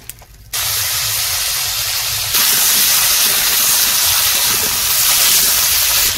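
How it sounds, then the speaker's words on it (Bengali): Potatoes hitting hot oil in a kadai in a village kitchen: a sudden loud sizzle bursts in after a quiet start, then a continuous close frying hiss grows stronger partway through. "কড়াইতে মা তেল দিয়ে দিল, এবার আলু ভাজবে।"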